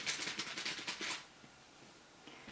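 A deck of game cards is riffle-shuffled for a game of Mr Cabbagehead's Garden, a quick close burst of crisp fluttering clicks for about a second, then quiet with a faint tap near the end.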